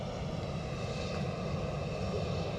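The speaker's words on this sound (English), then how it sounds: "Right, Dreamliner, inbound" A Boeing 787 Dreamliner airliner inbound to Edinburgh Airport produces a steady, even jet engine rumble. It stays continuous and moderately distant throughout the short stretch, with no speech over it.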